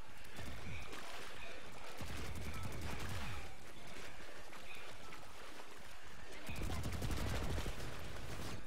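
Rapid bursts of video game gunfire crackle densely throughout during a team scrimmage, with repeated volleys and short pauses, a player's voice faintly under the shooting.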